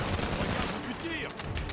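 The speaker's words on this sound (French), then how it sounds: "Il y a des tirs, enfin." Rapid bursts of gunfire from the Halo 5: Guardians video game, busy and continuous under a dense mix of game sound, with a person speaking over it.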